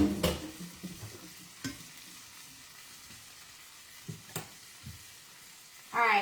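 Cooked salmon resting in a hot pan gives off a faint, quiet sizzle from its moisture, with a few soft pops and clicks, and a voice briefly at the end.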